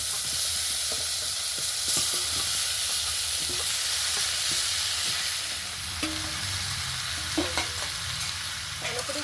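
Drained raw mango pieces sizzle in a wok over low heat, a dense steady hiss with intermittent spatula scrapes and clicks as they are stirred, close up and with no voices.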